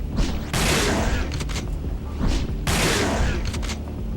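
Two loud, booming shotgun blasts in the video game Resident Evil Dead Aim, each with a broad burst and a short mechanical pump or reload clack after it.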